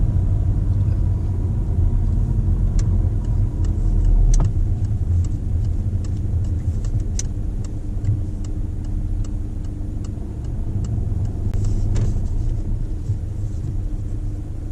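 A car creeps forward into a parking bay on the left during a mock driving test in Oxford, its engine a steady low rumble inside the cabin, with faint intermittent ticking like an indicator over the top.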